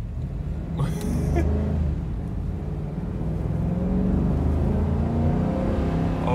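2021 Ford F-250 XL pickup with a 7.3L V8 pulling away from a stop sign under moderate throttle, a deep low rumble building steadily inside the cab, with a brief exclamation near the start.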